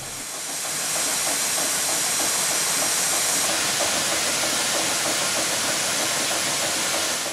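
A boiler on a portable steam engine powers a mobile sawmill, a robust French-built Merlin 7 horsepower machine. A loud, continuous steam hiss is mixed with a steady mechanical chuffing rumble, with no talking.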